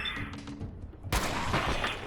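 Gunfire in the video game Fallout 4 erupts abruptly after a quieter stretch of game sounds, a sustained burst of loud rapid shots that carries on to the end.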